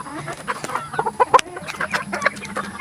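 Roosters and hens clucking at close range during morning feeding, giving short, uneven bursts of clucks with one sharper call in the middle and a faint hum underneath.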